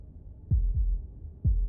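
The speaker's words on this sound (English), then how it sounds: "That was the sound of a heartbeat," Game heartbeat sound effect: two heavy, low double thumps about a second apart, loud and close over a faint low hum, with no voices.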